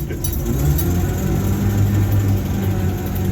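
A 1968 Land Rover Series IIa 88 engine idles steadily in a low, throbbing drone with a rough, uneven pulse, close and loud throughout with no one talking.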